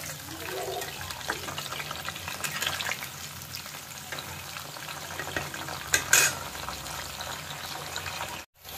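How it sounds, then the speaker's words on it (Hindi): Cauliflower florets frying in oil over low heat give a continuous soft sizzle with occasional stirring clinks of a utensil against the pan, close up, with no speech. "तो गोभी को आमे तेल रे स्लिम हीट रे फ्राई करिबा।"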